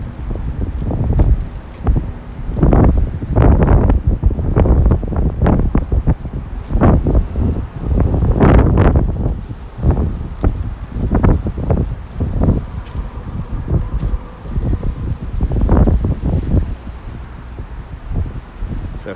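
Gusty wind at a waterfront in New York City, rumbling against the microphone in repeated loud bursts, with no clear talk.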